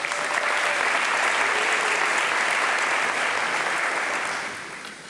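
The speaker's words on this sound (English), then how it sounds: "We'll give her a round of applause." A round of applause at a city council meeting, many hands clapping in a steady, even wash for several seconds before fading toward the end.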